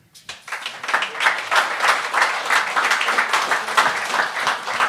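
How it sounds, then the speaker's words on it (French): Audience applause at a French-language comedy show, a dense burst of clapping that starts abruptly, swells quickly and holds steady and loud throughout. "par applaudissements, les gars dans la salle!"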